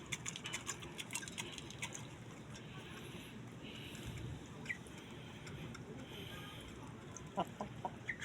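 A chicken clucks repeatedly while being fed, its calls close and fairly clear over a steady outdoor background hum, with a few sharper peaks near the end.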